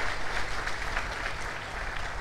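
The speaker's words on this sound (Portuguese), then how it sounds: "salva de palmas" Faint, steady applause from the crowd at a football club's squad presentation, a continuous patter of many hands with no speech over it.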